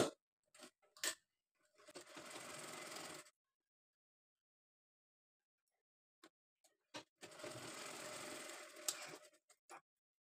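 A domestic sewing machine runs two bursts of stitching along a folded fabric edge for a small deity dress, with clicks and handling sounds between, close and quiet.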